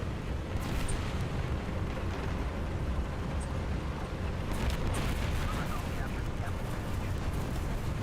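Artillery shells landing in War Thunder, a dense continuous rumble of blasts and crackling impacts with sharper bangs now and then, loud and unbroken.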